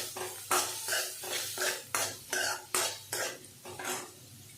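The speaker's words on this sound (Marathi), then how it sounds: "इथे बघू शकता कांदा असा छान बारीक कट करून घेतला, तर त्याला फ्राय करत राहायचं" Finely chopped onion is stirred as it fries in a pan: a run of about eight distinct, rhythmic scraping strokes of a utensil against metal, close and fairly loud, with a soft frying hiss between them.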